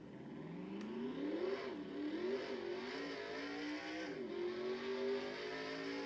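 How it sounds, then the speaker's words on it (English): A 2020 M&M's Halloween stock car laps Kansas Speedway, its engine droning steadily with rising and falling pitch as it revs through the corners, loud and continuous throughout. "you ready to see Kyle Busch take 2 laps around Kansas Speedway in his 2020 M&M's Halloween car"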